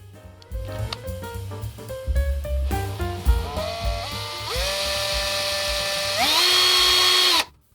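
A handheld electric drill bores into a guitar neck, starting in reverse, with stuttering bursts that ramp up into a sustained high whine as it speeds up, loud and close before stopping abruptly.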